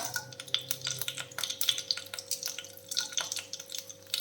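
Mustard seeds and dried red chillies frying in hot oil, a steady crackle of dense sharp pops and spits, close and fairly loud, with no talking.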